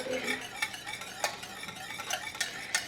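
Cheese sauce for keto cauliflower mac and cheese being whisked in a pot, with quick metallic scrapes and light taps of the whisk against the pan in an uneven rhythm, close and fairly soft.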